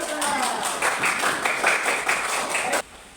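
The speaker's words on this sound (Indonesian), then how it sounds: "Tepuk tangan" Classroom applause after a talk on prayer rules, a steady rattle of many clapping hands at close range that cuts off abruptly near the end.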